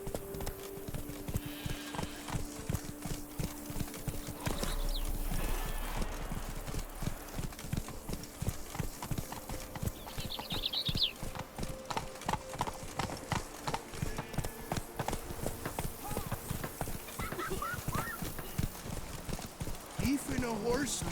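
Horse galloping in The Witcher 3 video game: steady rapid clip-clop of hooves throughout, close and continuous, with a brief whinny and a voice speaking over it at times.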